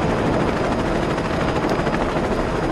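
In the video game Saints Row 2, a helicopter's rotor thuds in a dense, steady roar, loud and close for the whole stretch, with no voices over it.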